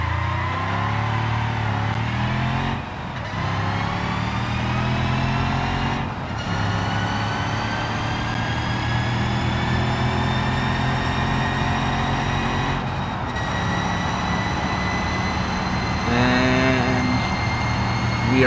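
A car in BeamNG.drive accelerates hard toward top speed, its engine rising through several gear shifts with brief dips between, loud and continuous throughout.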